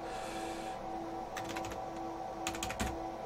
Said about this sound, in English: So this command that I'm typing in here